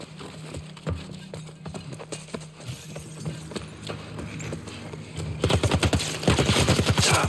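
Rapid gunfire in The Last of Us Part 1, with sharp repeated shots throughout that swell into a loud, dense burst of fire over the final two seconds, alongside game sound effects and music.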